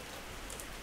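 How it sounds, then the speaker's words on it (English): Steady overnight rain falls outdoors at a deer-hunting shack in Maine, a soft, even hiss of drops with no other sounds. "but it's been raining all night."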